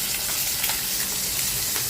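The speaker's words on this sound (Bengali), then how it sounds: "সেজন্য একটু অল্প তেলেই ভাজি নিচ্ছি" Puti fish frying in a little oil make a dense, continuous sizzle with scattered crackles and pops, close and fairly loud, with no voices.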